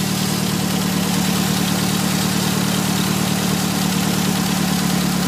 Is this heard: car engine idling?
yes